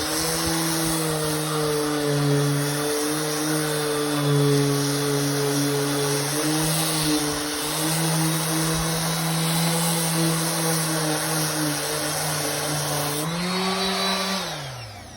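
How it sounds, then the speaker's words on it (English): An electric orbital sander works across a wooden surface with a steady, loud whine and buzzing drone, its pitch dipping slightly as pressure shifts, then winding down near the end. "That's the Orbital sander."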